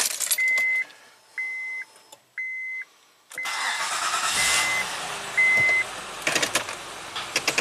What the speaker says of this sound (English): let's start the car and then shut it off